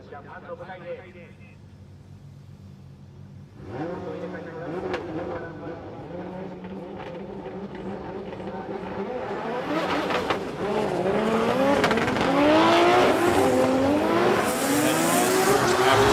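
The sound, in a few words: drift race cars with tire squeal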